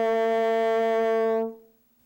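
One sustained French horn note blown through buzzing M-shaped lips, steady and clear for about a second and a half before stopping abruptly, played up close with no other sound.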